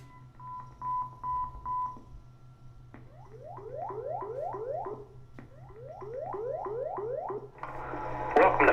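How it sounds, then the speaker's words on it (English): Fire station dispatch alert tones from the Irving fire dispatch office at Fire Station 6: a short run of steady beeps, a pause, then two series of rapidly repeating rising warbles, clear and unaccompanied by voices. "this is how we would notify the firemen and paramedics of an emergency call"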